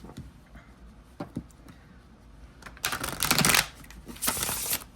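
Gilded-edge playing cards are shuffled, with soft taps and riffles building into two brisk, crisp riffle bursts close by.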